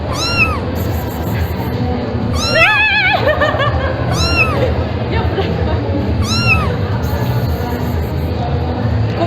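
A cat meows repeatedly, close and loud, in several rising-falling calls spaced a few seconds apart, with a background of people talking and a murmur of voices at an indoor event.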